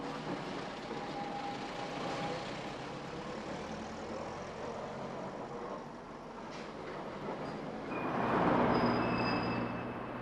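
An old Bournemouth tram on the Christchurch route runs forward to reverse in archive film, a continuous rumbling rail noise with thin wheel squeals that swells louder near the end.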